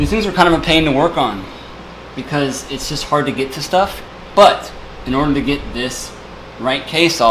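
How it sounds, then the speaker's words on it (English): Someone talks steadily over the low, constant hum of an electric fan running in the background. "Please excuse my fan noise"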